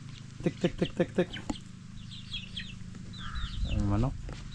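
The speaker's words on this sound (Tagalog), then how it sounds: "Ay manok." A chicken clucks in a quick run of short notes, followed by a louder squawking call, with birds chirping faintly in the background.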